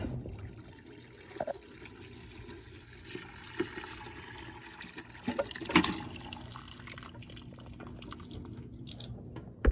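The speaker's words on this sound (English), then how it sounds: "It's straining into the bowl." Homemade vegetable broth pours through a strainer into a big bowl, giving a soft continuous trickle broken by scattered drips and small splashy bursts, fairly faint and close, with no voices.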